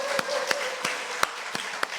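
Clapping from a congregation at a Korean university chapel service. A handful of sharp, separate claps stand out at irregular intervals over a soft murmur of lighter clapping.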